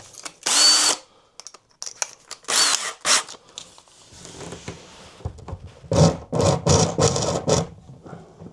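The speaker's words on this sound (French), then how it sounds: "Alors j'ai percé 8 pour 8, c'est un peu juste" A power drill fitted with an 8 mm bit bores a bolt hole in a wooden storage bed frame, whirring in several loud, close bursts separated by short pauses, the last run longer and stuttering.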